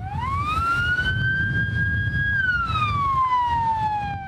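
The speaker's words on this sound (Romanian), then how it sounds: "Traficul îngreunat a blocat pe pod și o ambulanță care avea girofarul pornit." Ambulance with its siren on, stuck in heavy traffic on a bridge, its loud wailing tone sweeping up, holding, then falling, over a low rumble of traffic.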